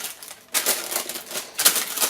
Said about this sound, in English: Then on top of that we just put a bit of greaseproof paper.